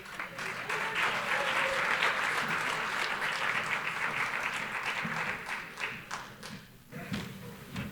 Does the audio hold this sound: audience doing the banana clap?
yes